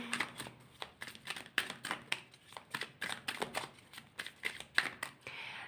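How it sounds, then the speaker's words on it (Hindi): Tarot cards being shuffled by hand, a quick series of crisp riffling bursts and soft taps in uneven rhythm, close and fairly quiet, with no talk. "सबसे पहले मैं टैरो से कुछ कार्ड्स निकाल लेती हूँ"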